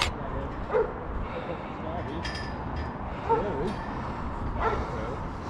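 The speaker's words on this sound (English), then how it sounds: "What's that barking?" A dog barks a few times at a distance, faint single barks spaced out beneath wind, heard from up high on a crane in Manchester while people talk nearby.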